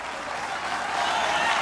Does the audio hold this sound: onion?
no